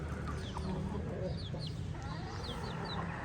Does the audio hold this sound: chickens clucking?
yes